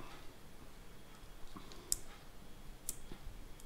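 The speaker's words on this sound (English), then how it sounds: "You can hear it clicking, and now it's on 4." A few sharp clicks from the twisting top dial of an OG Produce Terminator, spaced apart and fairly quiet over a low background hiss.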